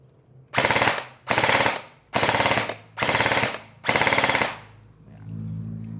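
An airsoft gun fires five loud full-auto bursts in quick succession, each lasting about half a second with short pauses between, followed by a quieter mechanical hum.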